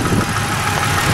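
A 1995 Pontiac Grand Prix SE's 3100 V6 running smoothly at idle, an even, close mid-pitched hum with no breaks.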